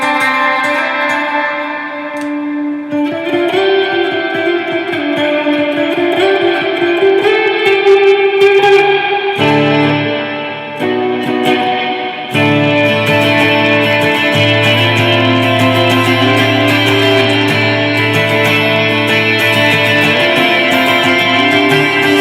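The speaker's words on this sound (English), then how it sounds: "It's a lot of reverb, kind of an eerie feeling," Clean electric guitar notes from a 7-string through a Line 6 HD147 amp, drenched in heavy reverb and modulation, sustained chords washing into an eerie, spacious haze that swells and fades continuously.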